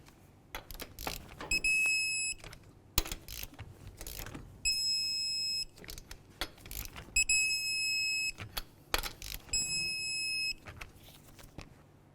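A torque wrench tightening wheel lug nuts on a 2004-2006 Scion xB produces repeated clicks and ratcheting taps, broken by four bursts of high electronic beeping, close and fairly quiet with no talk.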